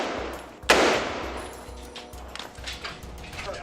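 A single loud, sharp gunshot very close by during a military operation in Gaza's Al-Shati camp, cracking out and then fading, with voices and rustling afterward.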